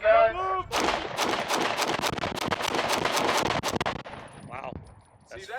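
A Beretta PX4 Storm pistol fired at a range, a rapid string of loud, sharp close gunshots lasting several seconds, with brief voices before and after the shooting.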